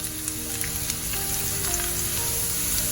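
Garlic sizzles while being sautéed over a high flame for baingan bharta, a steady hissing crackle with faint scattered pops, close and continuous, with no talking.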